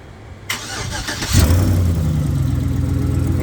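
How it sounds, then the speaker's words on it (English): A car engine cranks and catches after a remote command start, then settles into a steady, fairly loud idle with a rumbling exhaust, recorded close by with no talking. "So it actually starts up now by command start."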